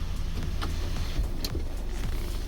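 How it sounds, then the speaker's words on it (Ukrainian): Large, near-panoramic sunroof of a 2018 Subaru Forester Touring 2.5 AT sliding open inside the cabin, a low electric motor whir with faint mechanical clicks, close and continuous. "Люк у нас ось таким чином відчиняється."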